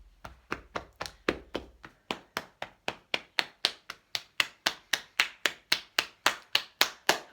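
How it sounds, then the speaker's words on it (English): Hands clap during a qi gong tapping session in a steady, evenly spaced rhythm of about three crisp claps per second, close and alone with no talk. "Always a nice round of applause for ourselves."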